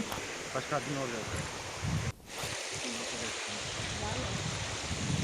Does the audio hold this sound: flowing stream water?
yes